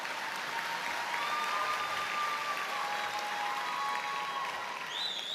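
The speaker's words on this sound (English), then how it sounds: "You should clap." Continuous clapping from the crowd at a 2022 secondary school graduation ceremony, steady and distant-sounding, with a faint high tone drifting over the applause.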